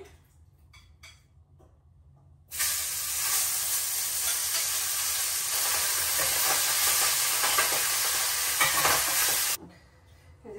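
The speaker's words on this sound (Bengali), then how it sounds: "এখন আমি এই যে পোয়া মাছটা আগে ভাজা নিতেছি" Poya fish going into hot oil in a pan: after a quiet start, a loud, dense hiss bursts in and holds steady for about seven seconds, then cuts off abruptly.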